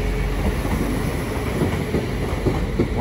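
A Class 195 train rolls past at Crewe with a steady, close rumble and rhythmic clickety-clack of wheels over rail joints, heard alone without voices.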